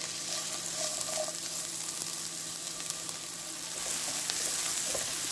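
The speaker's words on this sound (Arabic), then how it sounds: "حبيبه تاع البصل تتقلى" Onions frying in hot oil in a pan make a steady, close sizzle that holds even and continuous for the whole stretch, without talk.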